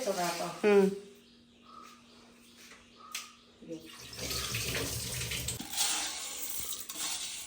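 Water runs from a tap in bursts while something is rinsed, with light clinks and splashes, and voices talking intermittently over it.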